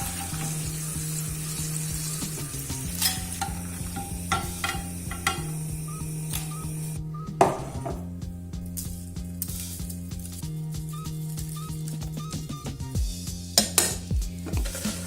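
Potatoes frying in oil in a frying pan for homemade chips, a steady sizzle running throughout, with clinks of utensils and pans as the slices are lifted out, no voices.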